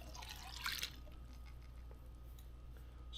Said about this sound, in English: so adding my water.